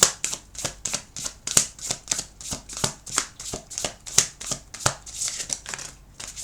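Tarot cards being shuffled, a rapid run of crisp riffling flicks in an uneven rhythm, close and fairly loud with no talking.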